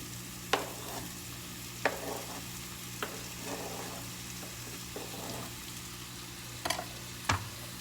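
Zucchini cooks quietly in a pan with a soft, steady sizzle, and a spoon gives a handful of sharp scraping clicks as it is stirred.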